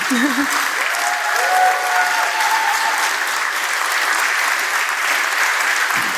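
A conference audience applauding at the closing session, a loud, sustained, even roar of clapping that fills the hall for several seconds, with a brief voice near the start.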